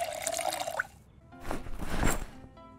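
Water poured into a pot while boiling water in the zombie survival game Project Zomboid, heard as a splashing, rushing pour that swells midway and then tails off, after a brief earlier tone.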